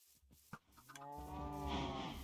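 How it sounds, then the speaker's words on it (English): A single cow moos in the video game Minecraft, a drawn-out tonal low after a few short clicks, close and fairly clear. "Let's see if we can get all or most of these cows to come in."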